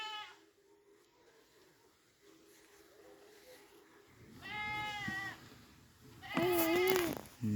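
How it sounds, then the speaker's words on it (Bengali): Goats bleat around a village home, several wavering calls arriving in bursts, the last one loudest and closest, with faint background noise between them. "কই ছাগল ডাকতেছে কই আব্বু?"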